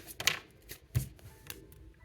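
Tarot cards shuffled close by, a few soft flicks and riffling taps in quick succession, quiet and brief with no talking.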